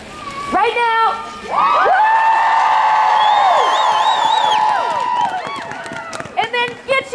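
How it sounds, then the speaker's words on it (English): A crowd at a women's march in Sioux Falls lets out a loud, sustained cheer with whoops and shouts rising together, holding for several seconds before tapering off into scattered voices. "give a big cheer right now"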